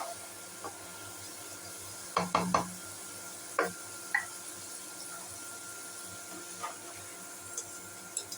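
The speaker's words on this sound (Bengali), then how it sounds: "আলুগুলো ভাজতে আমার 7 মিনিট সময় লেগেছে।" Potatoes frying in oil give a soft, steady sizzle, with several sharp utensil clinks and scrapes against the pan.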